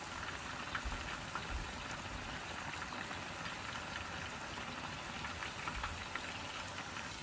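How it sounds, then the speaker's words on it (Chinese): Eggplant pieces coated in corn starch deep-fry in hot oil around 160 degrees, giving a dense, steady bubbling roar with faint crackles, continuous and close throughout. "放入油锅， 炸一会，用漏勺轻轻按压， 使茄子充分接触热油"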